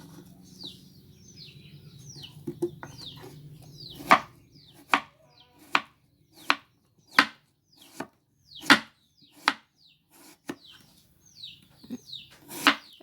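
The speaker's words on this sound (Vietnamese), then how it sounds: "xắt mỏng thái sợi nha các bạn." A knife slices jicama into thin strips on a cutting board, sharp regular chops at a steady rhythm, close and loud, with faint bird chirps behind.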